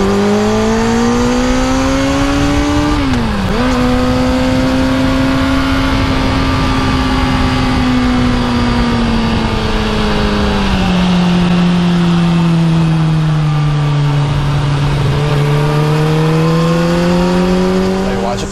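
A 2019 Kawasaki ZX-6R (636) sport motorcycle engine revs hard under acceleration, its loud, steady drone rising in pitch, dipping briefly, then climbing and settling again through continuous gear pulls.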